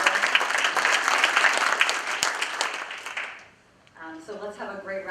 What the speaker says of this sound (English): So let's have a great round of applause for the panel and the team.